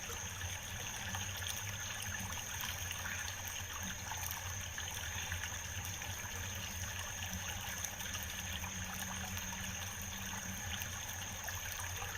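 Creek water trickles steadily and gently throughout, a constant close babble with no voices over it.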